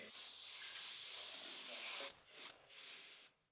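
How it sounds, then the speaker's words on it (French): Compressed air blasts through a clogged drain on a Honda Civic, a loud close hiss that runs steadily for two seconds, then breaks into shorter bursts before cutting off. "Essayons de le déboucher avec de l'air comprimé."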